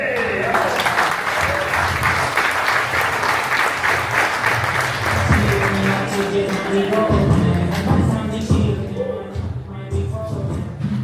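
A comedy showcase crowd in San Antonio claps in a full burst of applause, with cheering and talk mixed in and some music-like tones rising underneath as the clapping gradually thins toward the end.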